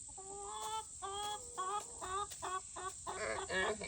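Chickens cluck and squawk in quick repeated bursts close by, a busy overlapping run of calls over a faint steady background hum.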